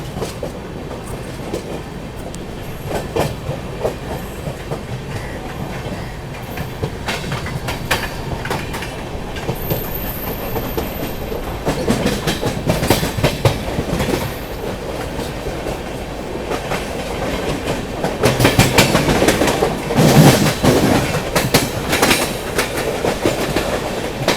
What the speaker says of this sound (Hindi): यहाँ पर पैरेलल शुरू हो गया है मुंबई लोकल ट्रेन के साथ